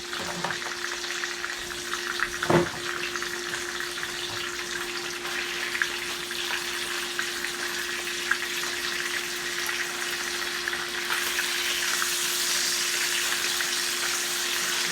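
Hamburger steaks sizzle and fry in a pan, a steady close hiss of hot grease with a brief clatter early on, continuing alone without talk.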